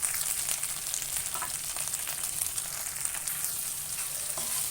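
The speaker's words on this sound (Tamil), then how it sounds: "ஃபஸ்ட் வெண்டைக்காவை நல்லா ரோஸ்ட் பண்ணிக்கணும்." Okra being sautéed with a little salt in a pan, a dense, even sizzle running throughout with light stirring scrapes mixed in, close and steady, no speech.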